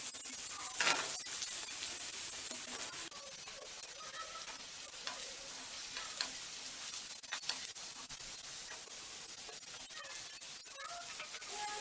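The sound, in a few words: mushrooms frying and being stirred in a pan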